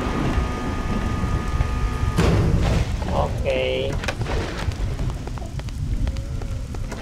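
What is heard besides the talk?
storm wind sounds in the video game BloodRayne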